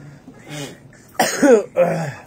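A few harsh, close coughs and a throat-clearing burst in quick succession, following some softer vocal sounds.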